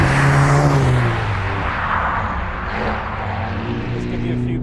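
A Mercedes-AMG GT Black Series drives past in comfort mode, a loud close engine roar that sweeps through and fades into a lower steady drone as it moves away.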